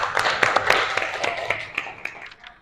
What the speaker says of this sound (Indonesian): Tepuk tangan buat teman-temannya sudah menjawab.